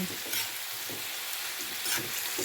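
Chicken feet adobo being stirred in a pan, a soft steady sizzle with faint scraping stirs now and then, quiet and close with no voices.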